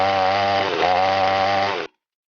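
A chainsaw runs at a steady idle-to-mid throttle, loud and close, with a brief rev midway, then cuts off abruptly into silence.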